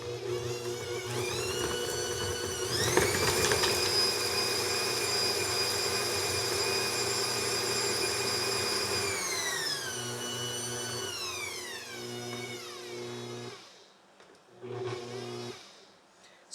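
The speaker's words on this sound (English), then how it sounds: "So let's start by whirring up that butter really well." A Bosch compact kitchen machine whips butter, its motor whirring loudly with steady high harmonics before the pitch slides down and it stops, then briefly restarts.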